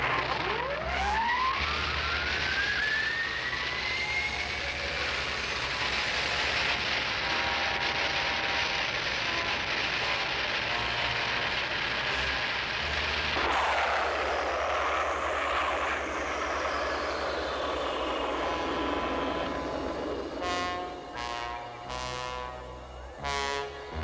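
Launch of the spaceship Star Seeker number 5, a rising whine that swells into a loud, sustained engine roar, then sweeps into a shifting drone ending in pulsing tones, with no voices.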